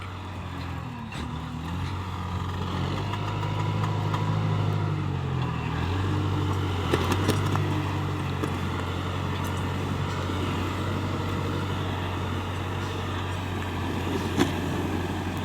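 A heavy engine rumbles steadily and low throughout, with a constant drone and occasional rattles: a Kubota M9808 tractor running nearby while plowing.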